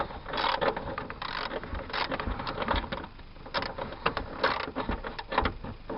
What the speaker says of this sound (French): On dévisse jusqu'à temps que ça vienne.